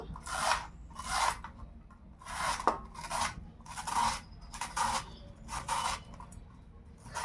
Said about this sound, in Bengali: এই গ্রেটারে আলুটা গ্রেট করব